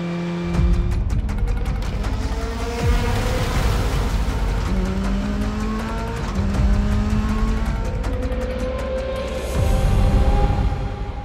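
Race cars on a track, loud engines revving and shifting over rising and falling pitches, with tire squeal and skidding, sustained and close, with no speech.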